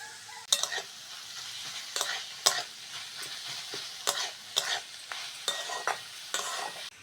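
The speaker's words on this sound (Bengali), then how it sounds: "গাজর আর পেঁয়াজটা হালকা করে ভেজে নিয়েছি এইবার আদা রসুন বাটাটা দিয়ে দেবো" Carrot and onion fry in a pan with ginger garlic paste, a soft steady sizzle broken by repeated sharp scrapes and clacks of a spatula stirring, close and moderately loud, with no talk.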